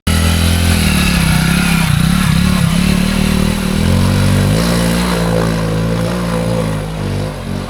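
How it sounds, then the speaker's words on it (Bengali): A motorcycle crossing the Mahadeo river in Kolmakanda, Netrokona, runs loudly and close by throughout, a steady rumbling drone with slight shifts in pitch and some clattering noise. "লোকজন এখানে কত সহজে বাইক নিয়ে পার হয়ে যায়"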